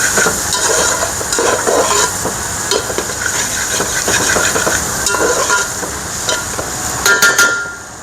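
Onions frying golden brown in a pan, a close, loud sizzle with frequent scraping and clattering of a spoon stirring against the metal, no voices.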